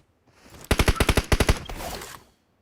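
Shooter video game gunfire: a single loud burst of about ten rapid evenly spaced shots, close and sharp, followed by a brief noisy tail with no talking.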